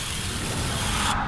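Cleaner is sprayed onto dirty intercooler bolts on a Cummins truck, a steady hissing spray held close for over a second before cutting off.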